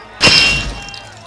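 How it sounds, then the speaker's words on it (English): Stone tablets smash in a single sharp shattering crash that rings briefly and then decays, standing alone without any speech. "Moses broke the stone tablets on which the commandments were written."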